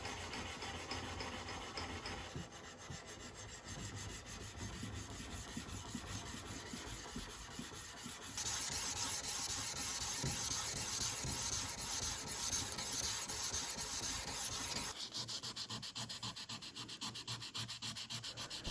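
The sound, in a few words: hand sanding a Damascus steel blade with 400 grit sandpaper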